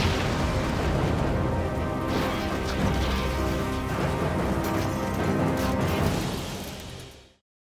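A sustained, roaring blast from a nuclear reactor explosion at Fukushima, with heavy low rumble and crashing debris, loud and continuous for several seconds before cutting off abruptly.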